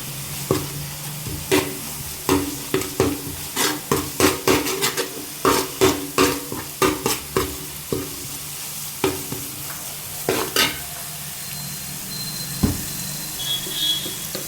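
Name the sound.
stirring turmeric powder in a pan for fish curry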